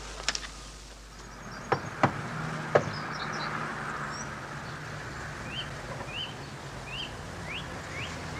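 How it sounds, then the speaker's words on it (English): A few knocks on a house door sound at a moderate distance, three separate raps with gaps between them, over a quiet outdoor background with birds chirping faintly. "knock again, Jack"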